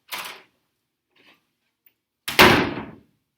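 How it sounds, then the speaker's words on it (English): A classroom door bangs shut with a loud, sharp slam, preceded by a softer knock and brief rustle as it swings, heard close and alone. "That door slams easy."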